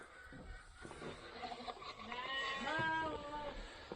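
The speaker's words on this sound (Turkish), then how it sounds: "Bunlar kuzularımız. Büyümüş kuzularımız." Several lambs bleat in wavering cries, one long quavering call standing out, with faint rustling and farmyard noise around them.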